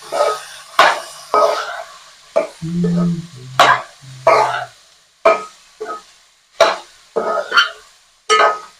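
A spoon scrapes and clatters repeatedly in a pan as ginger-garlic paste is stirred into cauliflower curry, sharp rhythmic strokes with brief pauses between them and a low hum in the background.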